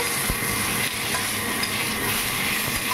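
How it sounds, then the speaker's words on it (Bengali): Pointed gourd (potol) frying in a pan at home, a steady close sizzle with oil crackle running throughout, no talk. "এই পটল ভাজা হচ্ছে"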